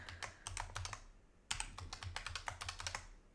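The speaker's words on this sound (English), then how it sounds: "Let's type it again." Fingers type on a computer keyboard while re-entering a username and password, quick clusters of fairly quiet clicking keystrokes with a brief pause midway, alone without talk.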